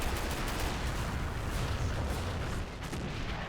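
Continuous World War II battle gunfire and artillery in Men of War, a dense roar of machine-gun bursts and distant booms blending into a steady wall of combat noise.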